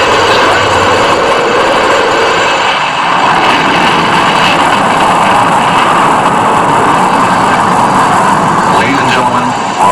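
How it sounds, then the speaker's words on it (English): Rocket main engines igniting at launch, a loud sustained broadband roar with crackling rumble that stays dense throughout, with voices talking over it. "We have main engine start."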